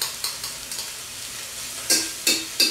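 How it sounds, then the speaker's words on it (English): Ground lamb ragu with tomato paste being stirred in a pan, a faint steady sizzle under several scraping spoon strokes, with three louder scrapes bunched near the end. "We're going to stir that in another minute or so."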